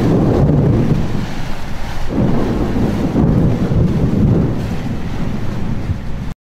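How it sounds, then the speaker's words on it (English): Violent thunderstorm at sea: loud, continuous roar of strong wind and crashing waves, with heavy rumbling thunder swelling throughout and buffeting wind noise on the microphone. "The wind was blowing too hard and the thunder was extremely violent."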